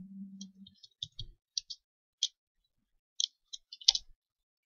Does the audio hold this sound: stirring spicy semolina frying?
no